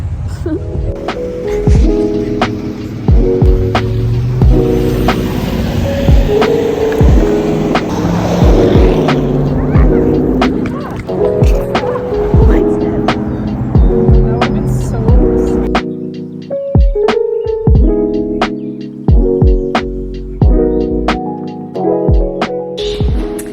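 Electric rental scooter motors whine and tires hum over rough pavement for a long stretch, with steady wind and road rumble throughout.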